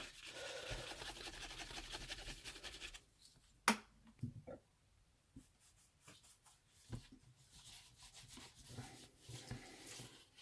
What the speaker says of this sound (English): then I'm going to give the whole thing a polishing Aussie wax